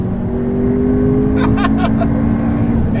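A modified 840 hp McLaren MP4-12C drives on a public road as its traction control cuts in, giving a loud, steady engine drone with steady tones and a few brief stuttering bursts partway through.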